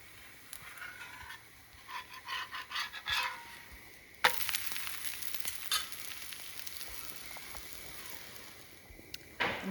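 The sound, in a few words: dosa frying on a pan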